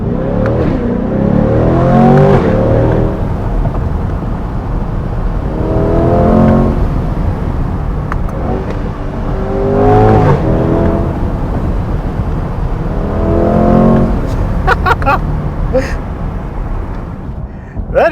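A 2024 Chevrolet Corvette C8 Stingray's 6.2-litre V8 pulls hard through repeated rising revs and gear changes on a twisty road, loud and close through an open window, with brief pops between pulls.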